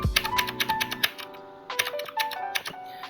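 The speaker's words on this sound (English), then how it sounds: "I'm using the arrows on my keyboard." Arrow keys on a computer keyboard are tapped in quick short bursts, several crisp clicks in a row, a brief pause, then another cluster of presses, close and clear.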